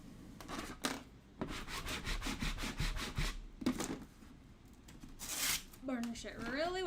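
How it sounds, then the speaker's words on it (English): Transfer tape is burnished onto a pumpkin with rapid, close rasping strokes repeated in bursts, followed by a crinkling peel near the end, while a person talks. "Burnish it really well."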